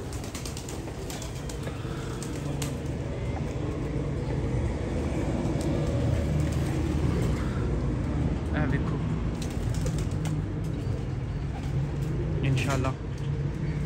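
Pigeons in a loft cooing and flapping their wings, set against a constant background roar of road traffic, with occasional sharp flutters standing out.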